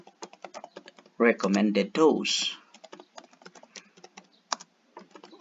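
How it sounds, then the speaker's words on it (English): Typing on a computer keyboard, close up, as a name is entered into an internet search. Quick, irregular key clicks run throughout, with a brief spoken word partway through. "just type in paracetamol"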